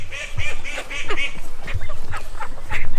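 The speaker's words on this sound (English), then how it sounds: "And now the Muscovy." Muscovy ducks call repeatedly at close range, a run of short hoarse quacks and honking notes in an uneven rhythm over a steady low background hum.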